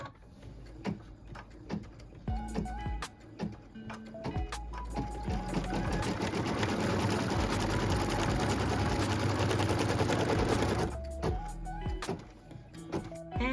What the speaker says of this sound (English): then we can take it back to the machine and stitch the first part of the roof